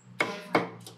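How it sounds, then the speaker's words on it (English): Roast pork is chopped at a Thai roast pork restaurant in Trang, heard as sharp cleaver strikes on a wooden block, three quick hits spaced roughly a third of a second apart in the background, with no talking. "You can hear her chopping away in the background."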